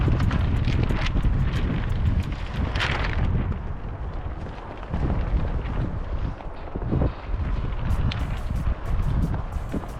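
Strong wind roars and buffets the microphone in uneven surges at a film greenhouse under construction, rising and easing over several seconds with a constant low rumble.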